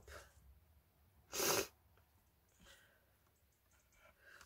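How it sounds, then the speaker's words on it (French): A person with a cold gives one sharp, loud sniff in a quiet room, followed by faint breathing and softer nasal sounds. "vous allez m'entendre constamment renifler vu que j'ai la crève"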